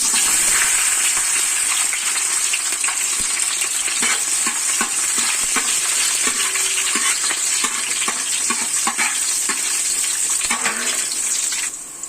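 Capsicum frying in a pan, a loud, dense hiss and crackle with quick repeated stirring knocks throughout, close and steady until it eases off at the very end.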